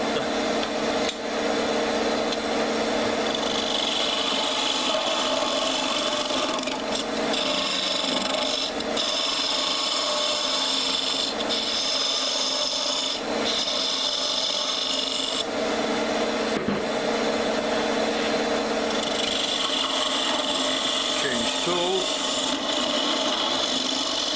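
Wood being cut on a lathe while turning a throw top, with a gouge held on the tool rest, a continuous dense scraping hiss, near and loud, swelling and easing slightly across the cuts, with no voice.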